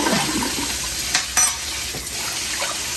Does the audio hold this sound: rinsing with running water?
yes